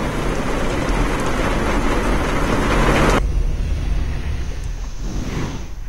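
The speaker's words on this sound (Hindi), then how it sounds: "आज जिस तरह से एक बार फिर झमाझम बारिश हुई है" Heavy monsoon rain pours down hard and continuously in Mumbai, a dense loud roar that drops abruptly partway through to a softer steady downpour; no one speaks.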